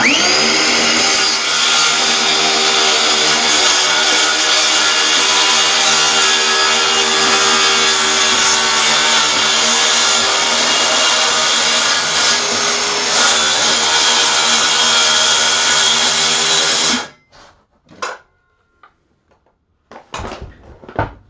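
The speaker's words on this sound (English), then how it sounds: "I am going to cut over metal, so I don't see any screws" Loud power tool cutting through metal in an Airstream trailer floor, a sustained close harsh whine and grind for about seventeen seconds that stops abruptly, followed by a few scattered knocks and clatters.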